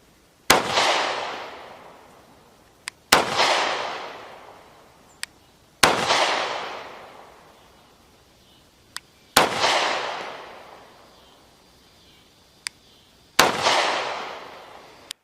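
An FN Reflex micro-compact 9mm pistol fired outdoors, five loud, sharp shots spaced a few seconds apart, each followed by a long echoing tail, with faint clicks between shots.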